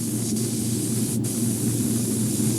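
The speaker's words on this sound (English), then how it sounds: "Now my airbrush there, it's working now." An airbrush hisses steadily up close as it sprays paint onto a largemouth bass taxidermy mount, a continuous airy spray with two very brief dips in the flow.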